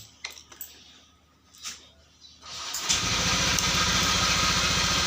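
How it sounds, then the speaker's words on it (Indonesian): A motorcycle engine cranks and catches, then settles into a steady, loud idle after a few quiet clicks and taps. "Barulah kita hidupin motornya."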